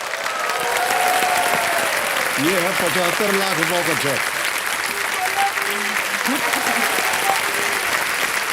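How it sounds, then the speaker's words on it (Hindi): A television quiz show studio audience breaks into loud, sustained applause. A host speaks over the clapping and music plays beneath. "तालियां बज जाए इनके लिए।"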